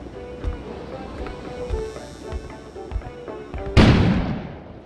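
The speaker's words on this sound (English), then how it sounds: "An explosion suddenly occurred outside." A sudden explosion outside in the survival game KONA, a single heavy boom that bursts in and rolls off over a couple of seconds, following a steady ambient bed with faint periodic low thumps.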